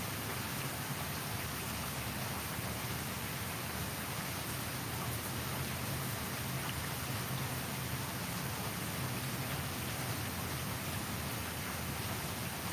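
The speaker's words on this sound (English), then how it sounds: "It is raining." Heavy rain falls during a storm with a tornado watch and flood warning in effect, a dense, even roar of drops on surfaces that holds steady throughout with no other clear sounds.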